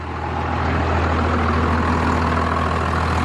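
A first-generation Cummins diesel engine idles steadily close by, a continuous low rumble with a constant drone and no voices over it.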